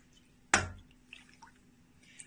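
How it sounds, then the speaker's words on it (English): Rendered beef fat tallow drips through a strainer with one sharp, close splat, followed by a few faint, scattered trickles in a quiet kitchen. "let it drip through. This one's produced a lot more fat."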